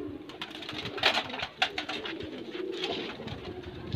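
Desi high-flyer pigeons kept for breeding coo repeatedly at close range, soft rolling calls rising and falling in clusters over a steady background murmur.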